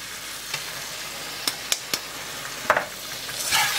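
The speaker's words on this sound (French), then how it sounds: "Ensuite, j'y mets mon bouillon." Broth going into a pan of mustard sauce, a continuous sizzle with a few sharp utensil taps, swelling louder toward the end.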